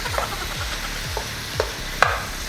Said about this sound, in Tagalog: Nagsisimula na mag-render yung fat ng pork natin.